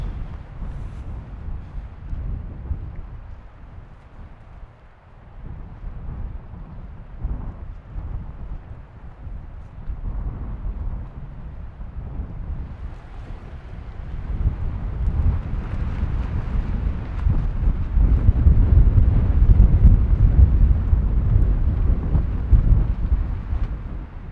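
Strong wind buffets a microphone outdoors at a wilderness campsite in Vätsäri, a low rumbling roar that rises and falls in gusts and swells louder in the latter half, with no voices.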